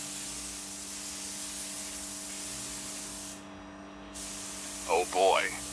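A cheap €10 spray gun lays the first coat of paint on a car with a steady, close hiss that cuts out briefly partway through, then resumes; a short voice sounds near the end.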